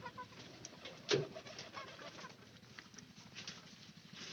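Pigeons kept in a coop give faint soft coos and rustling, with one brief louder flutter or call near the start, otherwise quiet.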